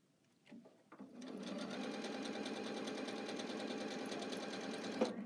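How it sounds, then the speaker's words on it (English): Sewing machine running steady stitching for several seconds after a couple of faint bumps, a close, even mechanical whir with a small clunk near the end, no voices. "I had Jeff look at my machine here, and I don't know what he did, but it sounded really good"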